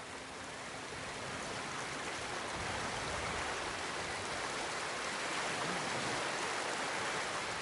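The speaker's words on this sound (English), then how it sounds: "Under the waterfall." A steady, full rush of falling water from a waterfall in the samurai game Ghost of Tsushima, a dense continuous roar that stays even and close for the whole stretch with no voices over it.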